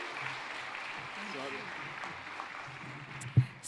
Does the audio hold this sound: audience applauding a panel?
yes